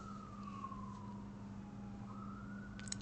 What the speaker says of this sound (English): Shout out to this police siren that's going on.